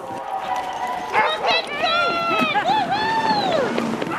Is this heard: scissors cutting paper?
no